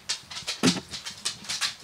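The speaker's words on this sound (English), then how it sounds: "The dog wants to come in." A dog whines and whimpers outdoors at a door, wanting to come in, in a series of short, fairly close cries repeated about every quarter second, with one louder yelp near the middle.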